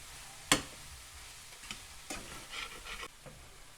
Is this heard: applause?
no